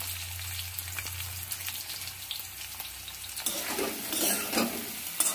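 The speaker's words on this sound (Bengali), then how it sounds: "আর একটু আলুটাকে ভাজতে হবে, একটু নরম করে নিতে হবে।" Potato pieces fry in oil in a pan, softening for a Bengali drumstick-stem curry. There is a soft, continuous sizzle with occasional light stirring scrapes, close by and moderately quiet, with no talking.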